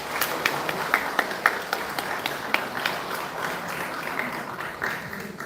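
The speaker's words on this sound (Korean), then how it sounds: "박수를 부탁드립니다" A seated audience at a redevelopment briefing for a Korean apartment complex gives steady applause, a dense patter of hand claps at moderate distance with a few sharper individual claps standing out.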